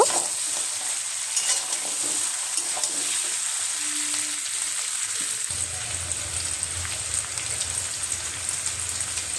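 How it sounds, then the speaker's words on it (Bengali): Tomato-chili paste, ginger paste, cumin paste and turmeric sautéing in a pan for a cauliflower, potato and tilapia curry, giving a steady close sizzle and stirring scrape that grows fuller and louder partway through. "সব কিছু ভালো করে কষিয়ে নেব।"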